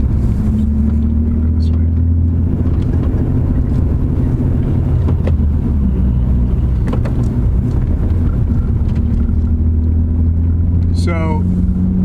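A BMW E36 M3 drives along with a steady, loud engine drone and road rumble throughout, while someone talks briefly over it.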